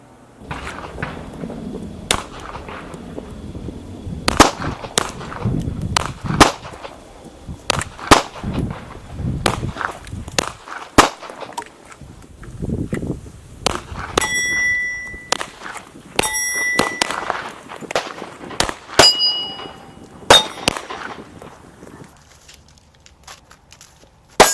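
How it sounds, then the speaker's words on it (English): Gunshots ringing off homemade steel targets made from common materials, a series of sharp cracks spread through the clip, several followed by bright metallic pings, mixed with footsteps and handling noise. "Here's just an example of just shooting at some of those things that I make with materials anybody can"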